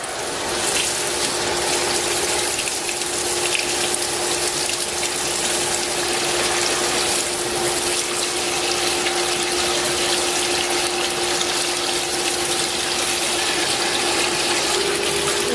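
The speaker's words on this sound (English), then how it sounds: "And we want to fill up our fryer." Oil pumps steadily into a commercial deep fryer with a constant rushing, gushing flow and a low mechanical hum, loud and unbroken throughout.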